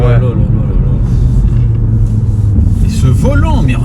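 Engine rumble from an Audi S1 hot hatch, a steady low idle growl held close and loud throughout, with someone talking over it.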